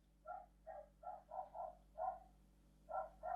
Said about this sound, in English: Fuck off, dogs!